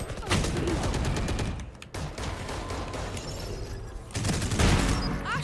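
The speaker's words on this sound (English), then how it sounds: "I shot somebody." Rapid gunfire bursts in Valorant during a competitive match, loud and close, with a dense burst at the start, a quieter stretch of scattered shots, then another heavy volley near the end.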